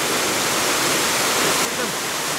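A mountain stream near a temple rushes steadily, a dense, close, continuous wash of flowing water with no voices.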